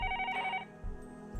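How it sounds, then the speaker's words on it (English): Desk telephone ringing in the Higurashi visual novel game, a bright electronic ring burst that stops and then starts again. "The phone on the desk rang, and the cop picked it up."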